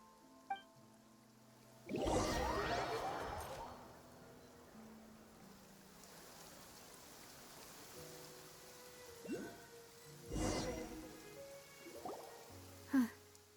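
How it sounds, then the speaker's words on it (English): Rain falls steadily in the video game Genshin Impact, a soft continuous hiss punctuated by a few louder splashing swells and faint low tones, with no speech over it. "It's been raining non-stop for a few days now."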